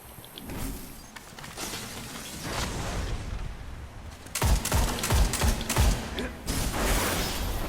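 Gunfire from the MIDA Multi-Tool scout rifle in Destiny, a quick cluster of sharp shots landing in succession over mechanical game ambience, moderately loud.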